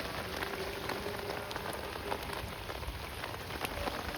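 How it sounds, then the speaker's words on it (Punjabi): Heavy rain pours steadily onto a flooded town street, a dense continuous hiss of drops splashing on standing water, close and loud with no break. "ਇੰਨਾ ਮੀਂਹ ਹੈ ਪੀਖੀ ਦੇ ਵਿੱਚ"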